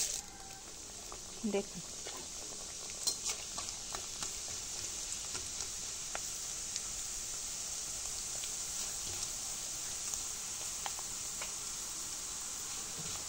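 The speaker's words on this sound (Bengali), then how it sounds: "এবার আমি 1 মুঠ করে চিড়া ভেজে নেব।" Flattened rice (chira) fries a handful at a time in hot oil, giving a steady soft sizzle with light crackles and a few sharper pops near the start, while a voice speaks briefly over it.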